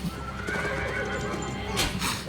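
A horse in a Game of Thrones scene whinnies loudly over steady clip-clopping hooves, the neigh rising near the end, with no talk.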